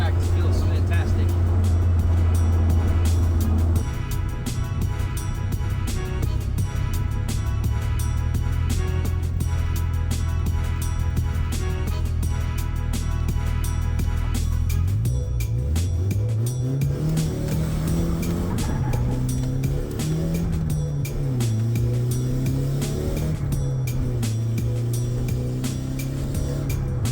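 Nissan S13 Silvia with a new big brake kit and 5-lug conversion driving on the road, a steady engine drone that rises and falls through gear changes near the microphone, with a person talking over it.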